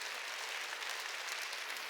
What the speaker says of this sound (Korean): 깨달은 사람만 박수요